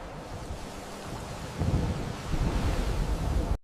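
A deep storm rumble of thunder rolls in over rushing wind and rain, swelling louder halfway through and holding as a continuous heavy roar with no voices.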